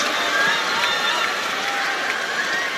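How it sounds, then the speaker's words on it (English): A table tennis crowd in Chongqing erupts after Fan Zhendong wins match point against Tomokazu Harimoto, a loud, steady roar of cheering and clapping that holds evenly throughout. "The crowd erupts."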